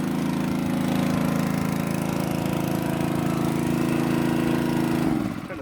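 A water pump's small engine runs steadily at a constant pitch, loud and close, its droning hum holding for several seconds before cutting off abruptly near the end.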